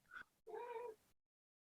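A cat meows twice in quick succession, a short chirp then a longer drawn-out meow, fairly close and clear.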